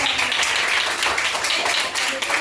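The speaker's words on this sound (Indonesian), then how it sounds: "Oke, tepuk tangan." Children clap together in a classroom, a dense, steady patter of many small hands filling the whole stretch at close range.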